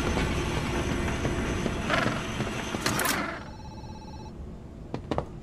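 A telephone rings in the horror game Zoochosis, a steady ringing tone over game ambience that cuts off partway, followed by a few soft clicks and thumps.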